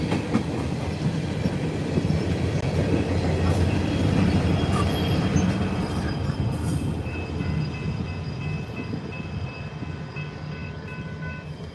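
A BNSF coal train rolls past in Ottumwa, Iowa, with a steady rumble and rhythmic clickety-clack of wagon wheels on rail that stays close and loud throughout, with faint wheel squeal.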